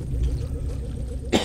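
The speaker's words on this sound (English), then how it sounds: "Coughing." A single cough, close and brief near the end, over a low rumbling background from a God of War game session.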